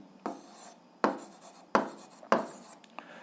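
Pen or chalk writing out a math solution, four distinct scratchy strokes in quick succession, each with a short rasping tail, close and alone with no talk.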